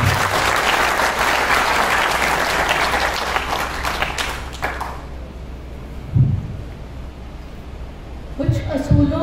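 Loud applause from a convention crowd for the keynote speaker at a youth federation event against unemployment, dense clapping for about five seconds before fading into quieter room noise with brief bumps and a voice at the end.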